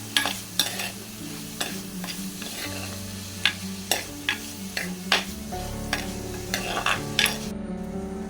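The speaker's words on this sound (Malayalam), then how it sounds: "പിന്നെ കുറച്ച് കറിവേപ്പിലയും കൂടി ചേർത്ത് നമ്മൾ വഴറ്റിയെടുക്കാം." Curry leaves sauté in a pan for a Kerala-style fish curry, giving a soft steady sizzle punctuated by sharp clinks and scrapes of a spoon stirring against the pan, with a low hum underneath.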